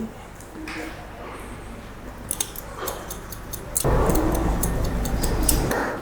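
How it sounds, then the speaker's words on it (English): Scissors point cutting into a man's hair on top and at the crown during a haircut, giving a series of crisp close snips and ticks over a low background hum with faint talk. "A little bit of point cut into that now."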